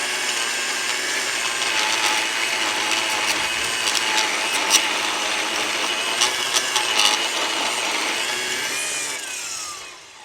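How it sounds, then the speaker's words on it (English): A Milwaukee QUIK-LOK edger attachment cuts along a driveway edge with a continuous high whining buzz and gritty scraping, steady for about ten seconds before winding down. "We're gonna go ahead and edge the driveway back here."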